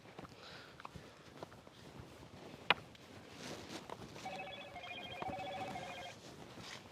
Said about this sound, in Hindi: देखो मौसी आने फोन आवत बा